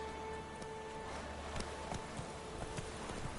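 Horse hooves clip-clop at a steady trot in The Witcher 3: Wild Hunt, a regular series of sharp taps over a steady ambient hum and a faint tonal drone, no talking.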